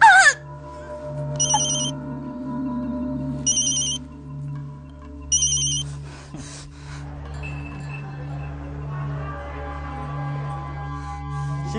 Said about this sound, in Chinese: 电话来得够快的啊！